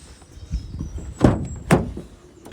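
The driver's door of a 2016 Vauxhall Movano 2.3 CDTI dropside van gives two sharp metallic thunks close by, with faint shuffling and clicks in between.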